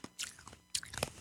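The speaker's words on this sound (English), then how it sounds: "I'm chewing the ice" Ice is chewed right at the mouth, giving loud, crisp crunches and cracks in quick irregular bursts over a little over a second. No one speaks.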